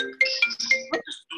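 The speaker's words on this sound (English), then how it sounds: "Someone's phone is going off." A mobile phone ringtone goes off during an online meeting: a short, bright electronic melody of a few quick tonal notes, fairly clear and alone.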